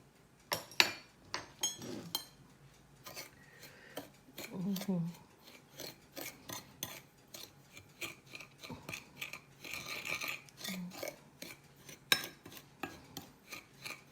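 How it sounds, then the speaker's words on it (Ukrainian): A spoon or fork stirs a food mixture in a bowl while lunch is made for seven, giving quiet scraping and clinking strokes in an uneven rhythm, close but faint, with brief voices in the background. "Розмішуємо це все."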